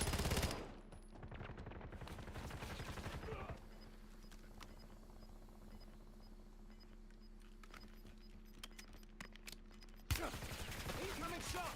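Video game gunfire crackles in dense bursts during a military airstrike mission, loud at the start, thinning to scattered distant shots under a steady ambient hum, then loud again near the end.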